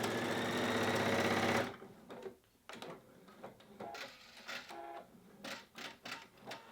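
A Pfaff sewing machine stitches pintucks on cotton with a twin needle: a loud, fast, steady whir for under two seconds, then stops, followed by quieter handling clicks and rustles of fabric.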